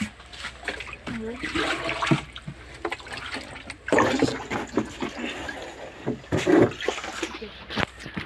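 Water sloshes and splashes in irregular scoops and pours as a tank is bailed out by hand, with a person speaking between the splashes.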